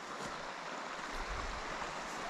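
Two streams flow together where they meet at Davidsons Linn, producing a steady broadband rush of water, close and continuous, with no voices.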